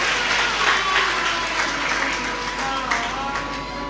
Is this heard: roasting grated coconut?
no